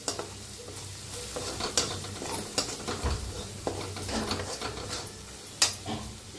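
Turmeric and masala roasting in a pan while a spoon stirs it, a soft steady sizzle broken by irregular scrapes and taps against the metal, close and fairly quiet with no talking.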